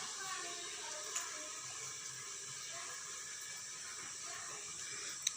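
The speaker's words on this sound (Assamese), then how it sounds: "এয়া মাংস ভাজি আছোঁ।" Meat frying in a pan, giving a steady broadband sizzle and hiss at moderate volume with a few small pops, continuous throughout.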